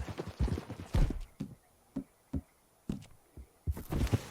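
Horse hooves in Red Dead Redemption 2 clip-clop at a slow, uneven walking pace, each hollow knock clear and close, with quiet gaps between steps and brief dialogue woven among them.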